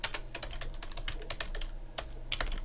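Fast typing of code on a computer keyboard in a Greenfoot programming lesson, a close, busy patter of key clicks with short pauses between bursts.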